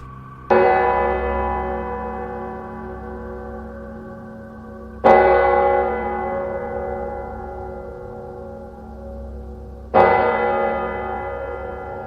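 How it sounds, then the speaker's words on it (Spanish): A church bell tolls three times, each strike ringing out loud and slowly decaying, spaced about five seconds apart. "María Josefina despertó por las campanadas de la iglesia, que llamaba a todos sus fieles."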